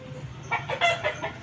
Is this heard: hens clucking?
yes